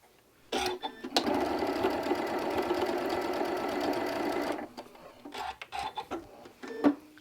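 Sewing machine stitching small fabric scraps together for a crumb quilt block, a steady close run of rapid needle strokes lasting about four seconds, with brief handling noises before and after.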